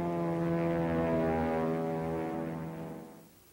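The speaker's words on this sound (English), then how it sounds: "German pilots must deal with a new breed of ground attack aircraft," IL-2 Sturmovik ground attack aircraft droning with a steady harmonic propeller-engine hum, loud and sustained, then fading away near the end.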